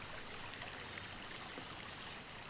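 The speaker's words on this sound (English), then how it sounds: "The river at last." A river flows steadily outdoors, a continuous broadband rush of running stream water with no voices, even and fairly close throughout.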